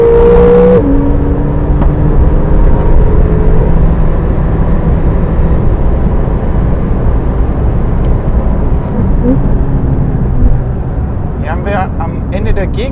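A 2017 Porsche 911 GTS at speed on a race track in Sport mode gives a loud, continuous engine roar with shifting pitch. Someone talks over it, and a brief tonal whine sounds near the start.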